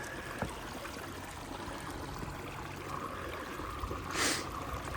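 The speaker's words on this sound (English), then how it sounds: "Another lovely little stream here." A small Peak District stream running near the footpath, a steady soft rush of water heard alone with a brief louder gurgle or splash near the end.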